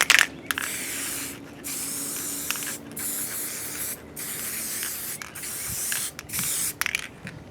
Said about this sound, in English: I'm using spray adhesive.